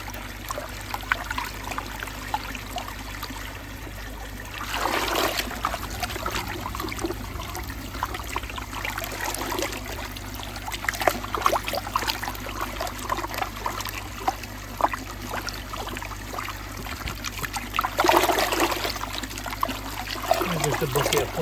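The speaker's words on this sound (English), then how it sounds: "Just a bucket of pond water, give it a mix up." Pond water sloshed and stirred in a bucket, a continuous soft trickling and swirling with a couple of louder splashy surges, fairly quiet and close.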